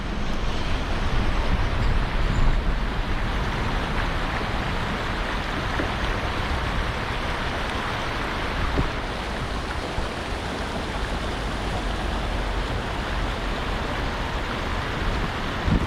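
Water rushes steadily over a small spillway in a broadband, constant roar, close and loud, with no voices over it.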